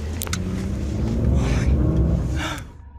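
A car rolls backward along a dark road with a low, steady rumble that swells and then fades toward the end, with brief faint breathy sounds above it.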